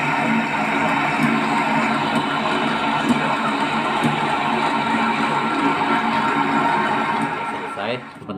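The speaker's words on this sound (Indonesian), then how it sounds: "Ini alat mixer yang sederhana, yang udah cukup lama," An old, simple electric hand mixer whirs steadily while mixing dough for chocolate banana bread, a dense continuous motor drone that holds loud and even for about eight seconds before cutting off at the end.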